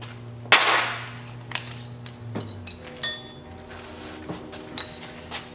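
A steel plate being marked with a center punch for an E36 motor and transmission mount: a loud metallic strike rings out, followed by several lighter taps and clinks at close range over a low background hum.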